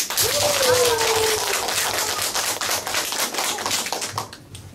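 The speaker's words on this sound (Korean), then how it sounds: "먼저 여러분들 스스로에게 힘찬 박수 한번 치고 시작할게요" A lecture audience claps energetically for themselves before a talk begins, a dense, loud, continuous patter of many hands that fills the room and tapers off near the end, with a voice briefly heard over it.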